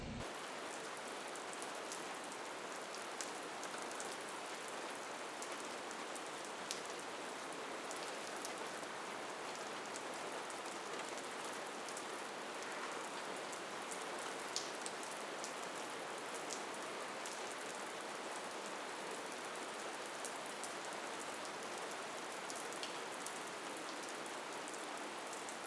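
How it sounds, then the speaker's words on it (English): Pouring rain falls outdoors, a steady dense hiss of drops on surfaces that stays even and loud for the whole stretch with no voices. "the rain is starting to let up just a little bit, and I'm already soaking wet"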